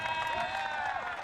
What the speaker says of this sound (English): Big cheer by his teammates.